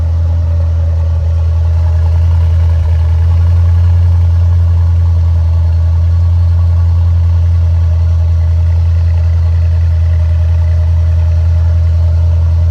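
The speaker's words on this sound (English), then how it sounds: "These things have accelerated idle for a few minutes to warm them up." A 2024 Mercedes GLE 63S sits in a steady accelerated idle after a cold start, a loud, smooth, constant engine drone with a low hum and no change in pitch.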